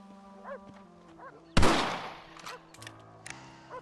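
A single sharp rifle shot in the Red Dead Redemption video game cracks loudly and decays over about a second, with quiet spoken exchanges and faint game sounds before and after.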